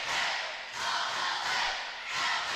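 The home crowd in the bleachers at a high school basketball tournament game roars and cheers in loud, continuous swells with brief dips between them, a dense wall of yelling voices.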